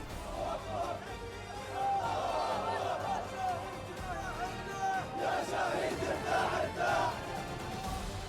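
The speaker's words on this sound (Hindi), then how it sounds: "वेस्ट बैंक एयर स्ट्राइक में मारे गए लोगों के जनाजे में भारी भीड़ जुटी।" Large crowd gathered at a funeral in the West Bank for people killed in an airstrike, a dense, steady roar of many voices with shouting and chanting rising and falling throughout.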